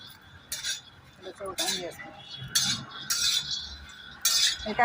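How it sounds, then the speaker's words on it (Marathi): Peanuts roasting in a pan on a wood-fired stove: intermittent scrapes and clinks of a spatula against the pan in short bursts, with brief speech heard between the strokes. "शेंगदाणे भाजून घेते"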